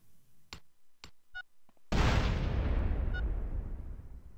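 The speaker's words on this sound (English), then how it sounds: "I want to go to my grenade and throw two grenades." Grenade explosions in GTA San Andreas: a few sharp bangs and pops, then one loud, close blast with a long rumbling decay. No talk.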